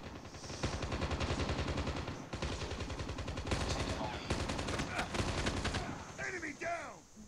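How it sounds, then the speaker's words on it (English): Rapid automatic gunfire from Call of Duty Mobile, sustained bursts of loud close shots nearly filling the span, with a brief gap near the middle before the shooting ends and faint game chatter follows. "if you aim towards someone, it automatically shoots"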